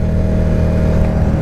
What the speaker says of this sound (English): It's got a nice exhaust note, but it's so quiet.